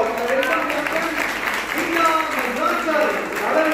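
Applause from an audience at a Savitribai Phule birth-anniversary celebration, mixed in under someone speaking loudly over a microphone, the clapping faint and steady behind his voice.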